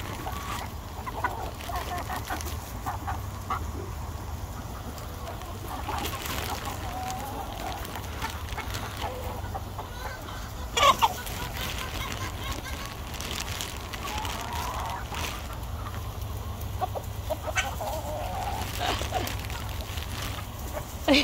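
Free-range chickens cluck steadily nearby, with soft rustling and occasional bumps, while a person talks now and then over them.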